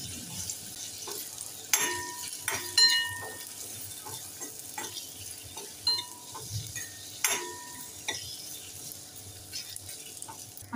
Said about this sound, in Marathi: आता आपण सर्वात शेवटी